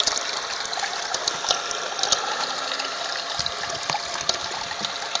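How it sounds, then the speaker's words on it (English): A bilge pump pushes water through a gold sluice or high banker, giving a steady, continuous gushing and splashing rush of moderate loudness throughout, with no talking. "The bilge was pulling the water out faster than it could come back in."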